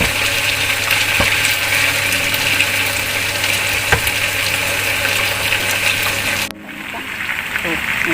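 Korean fried chicken sizzling in a small amount of oil, a steady broadband hiss and crackle held close and loud for several seconds before cutting down abruptly near the end.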